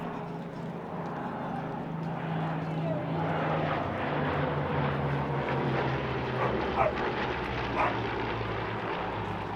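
A Bristol Blenheim, a twin-engine bomber, flies past at an airshow, with a steady, droning propeller-engine hum that swells slightly as it passes. Faint crowd noise and a few sharp yips sit in the background.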